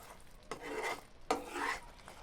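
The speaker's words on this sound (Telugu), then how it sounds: "ఇందులో కొద్దిగా యాలకుల పొడి వేసుకొని కలుపుకోవాలి" A spoon stirs cardamom powder into hot jaggery syrup for a cashew sweet, giving two short scraping, rasping strokes about a second apart at close range with no talk.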